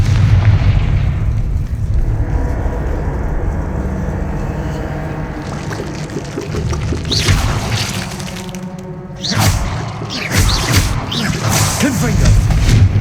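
Fiery Confringo spell blasts in Hogwarts Legacy burst with deep booms over a continuous low rumble, several impacts landing close and loud toward the end, with a voice calling out amid the combat.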